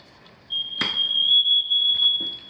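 Smoke alarm sounding in a newly built house, a loud continuous high-pitched tone that starts abruptly and holds steadily, with faint footsteps and room noise around it.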